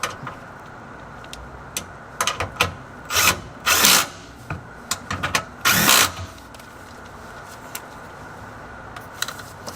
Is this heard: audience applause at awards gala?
no